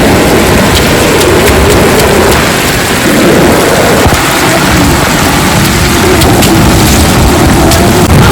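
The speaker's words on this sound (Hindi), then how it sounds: "और यहाँ बारिश खूब जम के शुरू हो गई है।" Heavy rain pours down steadily over a village courtyard, a loud, dense, unbroken roar of drops hitting surfaces with water running off, close and enveloping throughout with no voices.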